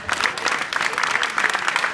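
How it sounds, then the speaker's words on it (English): Audience applause for martial arts film stars Scott Adkins and Michael Jai White at the U.K. Martial Arts Show in Doncaster Dome, a brief, steady burst of clapping from a crowd in a large hall. "can I have a hand of applause for the 2 best?"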